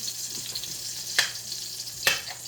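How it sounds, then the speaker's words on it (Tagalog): Turkey sautéing in a little oil with mixed vegetables gives off a steady, moderate sizzle, broken by two brief stirring clatters. No one speaks. "Pag ako nagigisa guys, lagi lang kami gisa-gisa."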